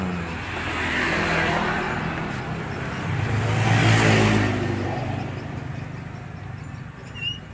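An old, worn Evinrude 12 hp outboard motor running after a pull start, a rough steady engine hum that swells and fades twice at moderate distance, with no one speaking.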